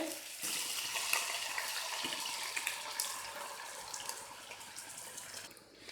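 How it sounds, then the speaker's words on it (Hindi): Eight cups of water pour steadily into a cooking pot for chicken soup, a continuous splashing rush that fades near the end, close by. "आठ कप पानी मैंने इसमें डाल दिया है।"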